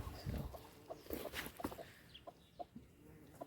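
Backyard chickens in a spring garden, a rooster and a broody hen among them, cluck in short irregular bursts up close, with soft scattered calls between louder clucks.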